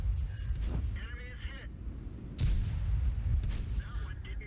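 Tank cannon shot in World of Tanks from an AMX 50 100, a sharp heavy blast midway through followed by rumbling engine and battle noise, with a voice talking over it.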